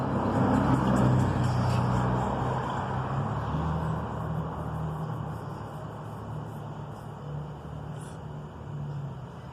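Road traffic passing outside, a continuous low rumble of cars and trucks that is loudest at the start and eases slightly, steady and moderately near with no voices.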